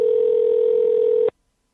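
A steady continuous telephone tone sounds alone at moderate loudness for over a second, then cuts off abruptly into silence, as a call rings out to a government cooperative development office.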